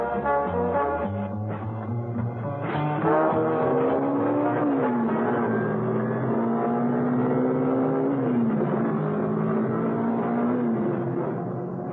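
A car speeds along an open road in a radio drama effect, its engine a steady loud drone that climbs and dips in pitch as it accelerates, continuous and close with no voices.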